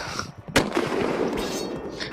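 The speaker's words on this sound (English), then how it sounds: "You hear guns firing as well." Gunfire during a night attack in the game ICY, a sharp shot followed by a rumbling burst of further firing, moderately loud with no talking.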